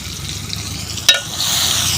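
Onion chutney paste with chilli powder and salt being stirred in a frying pan, a soft steady sizzle with a single sharp scrape of the spoon midway, close and alone.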